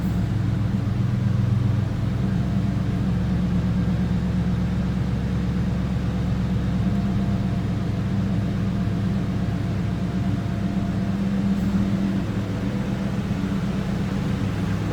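A 2001 Ford Mustang GT Bullitt idles with a steady low engine rumble, loud and close, holding an even tone with no revving and no voices over it.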